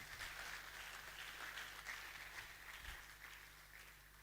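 An audience applauds with a steady, even patter of clapping that holds for several seconds at moderate distance, with a faint low hum underneath.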